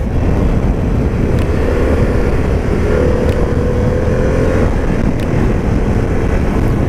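A Harley-Davidson Pan America adventure motorcycle engine pulls steadily in third gear on an open road, a loud, continuous drone mixed with wind rush and no break in tone.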